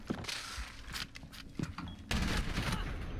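Gunfire in Rainbow Six Siege, a string of sharp bursts in the near-to-mid distance with a louder, denser volley near the end.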